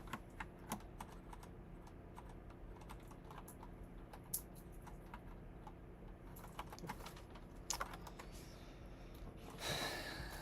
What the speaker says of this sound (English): I keep pressing the wrong keys